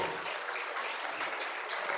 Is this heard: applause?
yes